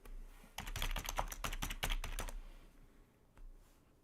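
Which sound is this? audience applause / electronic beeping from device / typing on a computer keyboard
typing on a computer keyboard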